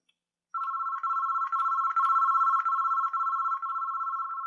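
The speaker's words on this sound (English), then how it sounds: "Use the volume control settings here with the phone in an idle state to change the ringer volume." Cisco SPA desk phone ringer sounding at an adjusted volume: a steady electronic ring tone that starts after a brief silence and pulses in short repeated bursts, clear and alone with no talking.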